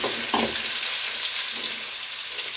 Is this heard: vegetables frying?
yes